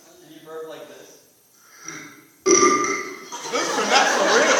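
A person belches loudly, first a couple of quieter burps, then a long, rough, sustained burp that stays close and forceful to the end.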